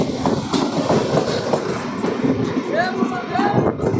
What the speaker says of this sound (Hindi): दोस्तों हमारी इंटरसिटी एक्सप्रेस खुसरूपुर में अराइवल ले रही है और सामने से निकल रही है 63-339 राजगीर दानापुर पैसेंजर ट्रेन।